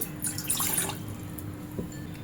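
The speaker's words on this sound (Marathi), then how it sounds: "इथे मी चहाचं भांडं घेतलंय यामध्ये घालणार आहोत आपण एक कप पाणी" A cup of water is poured into a tea pot, making a short, soft splashing trickle near the start that fades into quiet kitchen room tone.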